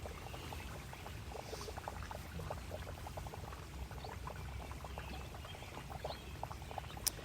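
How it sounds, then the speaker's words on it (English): Water flows steadily in a continuous, moderately loud wash with small bubbling detail throughout, and no voices. "Sit with her and spend some time just listening to the water"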